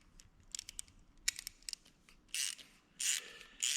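A ratchet turns a bolt into a threaded hole while an alternator mount is fitted on an LS engine in a home garage, making quick bursts of close metallic clicking followed by two longer, louder ratcheting runs.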